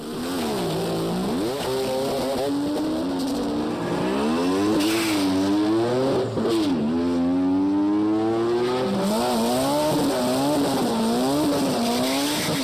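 Race car engine revving hard, a turbocharged Mazda-style Integra run at the drag strip, with the pitch climbing and falling through repeated gear changes, loud and close for over twelve seconds alongside occasional tire squeal.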